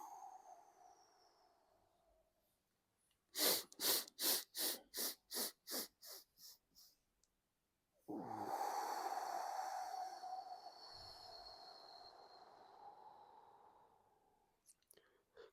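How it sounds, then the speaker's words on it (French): A man demonstrates a breathing exercise: a series of quick, rhythmic, noisy nasal sniffs in close succession, followed by a long, drawn-out, breathy sigh of exhalation, close and intimate. "Quand on inspire, on fait du bruit."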